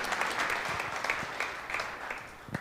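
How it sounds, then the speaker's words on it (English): Audience applause, a steady moderate patter of many hands clapping, slightly distant and continuous without voices over it. "Let's give them a round of applause and thank them for all they've done."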